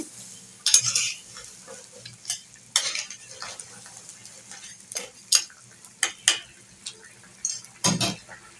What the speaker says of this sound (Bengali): একটু নাড়া দিয়ে দিচ্ছি, বলক এসে পড়েছে।